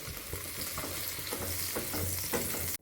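Homemade butter sizzling and crackling in a heated non-stick pan while French toast is being made, a close, continuous frying hiss with small pops and stirring scrapes, ending abruptly.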